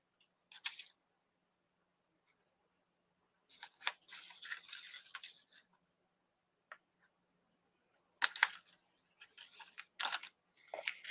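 Paper being trimmed for a handmade card gives short bursts of scissor snips with quiet gaps between them, close and crisp, with no talking.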